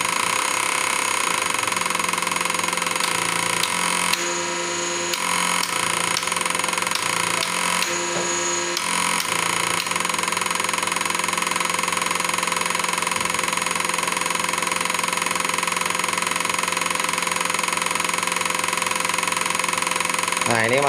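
PDC genset engine running steadily and loudly nearby, a dense, unbroken mechanical drone with a high whine on top, continuous throughout with two brief dips, while someone speaks over it.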